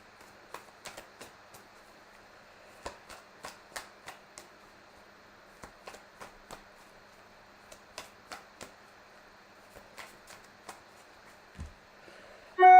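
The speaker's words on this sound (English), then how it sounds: "As I'm shuffling these cards" Tarot cards being shuffled by hand, a series of soft, quick riffling clicks in small irregular clusters over a quiet background, with a low thump near the end.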